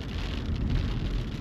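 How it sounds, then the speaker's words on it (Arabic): Heavy summer rain pours steadily over a village in the Thaqif area of Saudi Arabia, a dense, even hiss with low rumbling underneath and no distinct drops standing out. "اللهم لك الحمد، استهلت غزارة مطر"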